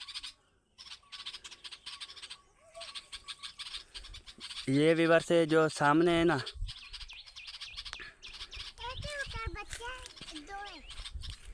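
A pair of sparrows near their nest chirps in noisy, rapid bursts of high tweets, loudest in the middle, while someone talks over them close by.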